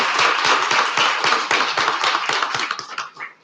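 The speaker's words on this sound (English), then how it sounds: "I want to give them applause for that" Applause at a city council meeting, a room of people clapping steadily with individual claps audible, close and lively for a few seconds before fading out.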